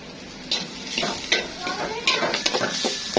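Dried fish fried with potatoes in a pan sizzles steadily while a utensil stirs and scrapes in irregular strokes, heard up close.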